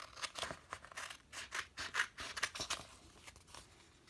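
Scissors snip through fabric washi tape in a rapid series of short, crisp cuts, close and quiet, with slight rustling between strokes.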